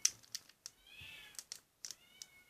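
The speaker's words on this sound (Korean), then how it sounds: "고양이 시끄러워! 여기 다 들린다고!" A cat meows once in a drawn-out, wavering call, with light tapping and clicking sounds scattered around it.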